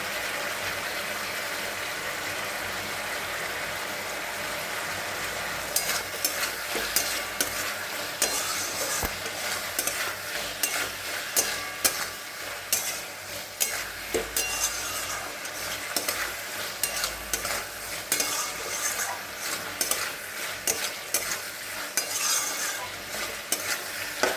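Ridge gourd frying in a pan with a spice mix, jaggery and turmeric, a constant close sizzle joined after a few seconds by repeated scraping stirs of a spatula, with no talking.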